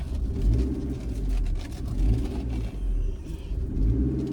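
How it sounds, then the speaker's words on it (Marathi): A car's engine rumbles low and steady as the car slowly reverses, with mild swells of revving, close by and without talk. "गाडी थोडी रिवर्स घेतोय"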